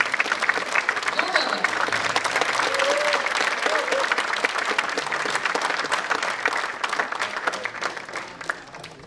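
Theatre audience at a nautanki folk performance claps loudly for the lighting operator, a dense sustained applause lasting several seconds with a brief voice or two, gradually thinning near the end.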